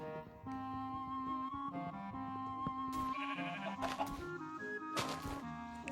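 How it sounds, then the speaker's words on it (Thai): Sheep bleat in the video game Minecraft, several short nasal bleats repeating over a soft, tonal game-music background. "อุ้ยแกะ"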